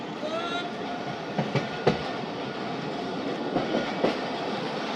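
The Khyber Mail passenger train runs on rails, a loud steady rumble and roar from inside the coach with periodic clicks and clanks of wheels over rail joints.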